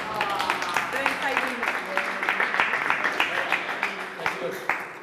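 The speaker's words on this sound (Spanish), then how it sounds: "Esto se merece un aplauso" Audience clapping at a book presentation, a steady patter of hands with sharper individual claps standing out, fairly close and continuous, with voices talking over it.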